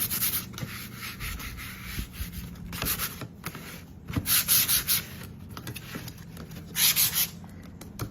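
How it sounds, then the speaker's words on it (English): Sandpaper rubs back and forth over a painted wooden desk, steady close scratchy strokes with a few louder bursts of friction and no talking. "I'm gonna go and sand it, get it to where it's nice and smooth."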